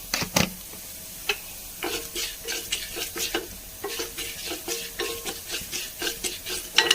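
Coriander seeds fry in hot oil while a spoon scrapes and stirs them in quick, rhythmic strokes, with a soft sizzle running underneath the close scraping.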